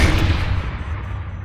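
A Tiger tank cannon fires, a heavy booming blast that rolls and decays over about a second, loud and alone without voices.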